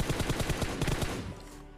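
Rapid automatic gunfire from a video game rattles in a quick burst of about a dozen shots, loud and close, then breaks off into a fading tail.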